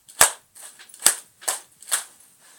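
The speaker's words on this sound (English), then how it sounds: "And you can hear it, even at this size, it still snaps." A miniature bullwhip keychain cracks four times in quick succession, each snap sharp and close, with short pauses between them and no voices.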